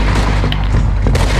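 A loud, booming gunshot in Red Dead Redemption 2, close and heavy, with a second sharp report near the end over a thick rumbling background.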